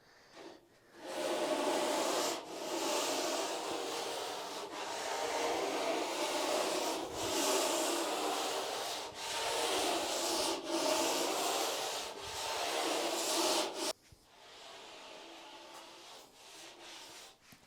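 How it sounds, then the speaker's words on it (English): A curved sanding block is worked over a wood blank with repeated rubbing strokes, long and rhythmic with brief pauses between passes, close and fairly soft. "then move to a sanding block to finish it off"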